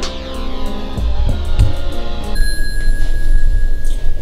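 A bell-like tone is layered into a dark, haunting trap beat; several bright chimes ring out over thumping low drums, then a sustained ringing tone holds steady above the beat to the end.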